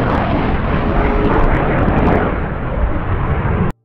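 Toy Sukhoi fighter jet giving out a loud, continuous roaring jet-engine whoosh that runs without a break and then cuts off abruptly at the end.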